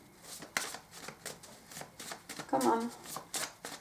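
Tarot cards being shuffled by hand: quick riffling and sliding bursts that repeat in a fast rhythm, close to the microphone, with a person speaking briefly over them.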